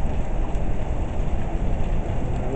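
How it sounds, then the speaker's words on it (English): Steady rain falls in a continuous broadband wash, close and even, with no voices over it. "Listen to the rain."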